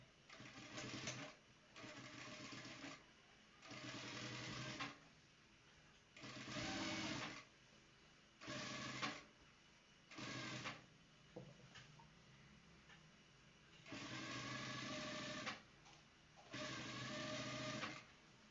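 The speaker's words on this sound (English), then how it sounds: "So I'm going to stitch on it outside there." A sewing machine stitches a vintage shirt in bursts of rapid mechanical chatter, each run lasting one to two seconds and separated by short pauses, close and fairly quiet, with no talk.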